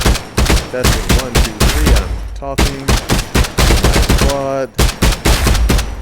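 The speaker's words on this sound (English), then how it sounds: "if you can hear me at the same time when gunfire is going off" Rapid bursts of video game gunfire crack loudly and repeatedly, nearly continuous volleys with brief gaps, while someone talks over the shooting through a wireless mic on a Quest headset.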